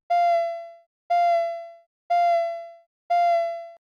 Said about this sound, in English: So you can already hear the foundation of the sound effect.